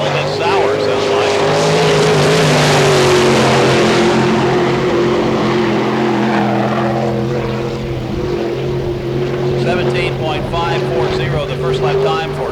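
A sprint car engine runs sour and rough at a Barberville, Florida speedway during All Star Circuit of Champions racing, a loud sustained drone with shifting pitch, under a public-address commentator's voice.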